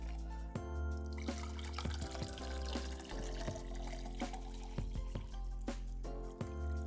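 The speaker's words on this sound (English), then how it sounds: "I'm going to fill it up with this water bottle" Water poured from a bottle into a big lidless cup, a steady continuous fill with dripping, splashing texture and a few brief drops or knocks, close and fairly quiet, with no talk.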